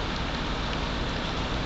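Heavy rain pours steadily in the woods, a dense, continuous hiss of drops on leaves and the ground, loud and unbroken throughout.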